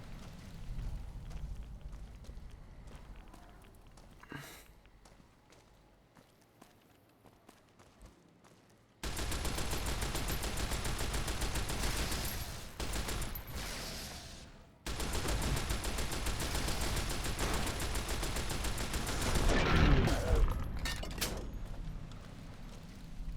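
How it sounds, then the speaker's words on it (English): A modded light machine gun fires in a Fallout-style game, long loud sustained bursts separated by a quieter stretch with a single sharp shot and faint ambience. "It's the light machine gun. It's just called the light machine gun, I think."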